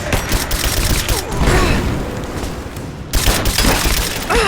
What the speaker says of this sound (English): Under fire! Grenade out!